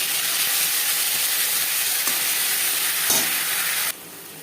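Panch phoron with ginger paste and green chili paste frying in oil in a wok, a steady close sizzle and hiss with faint stirring clicks, dropping sharply quieter near the end.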